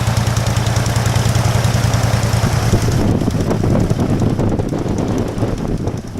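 A Generac generator engine fitted with a modified header and carburetor runs loud and close in a steady droning hum, then shifts to a rougher, more broadband rumble partway through, with no talking.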